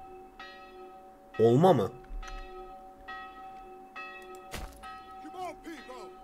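Church bells ringing in the medieval strategy game Manor Lords, repeated sustained tolls with lingering tones, under a voice speaking briefly.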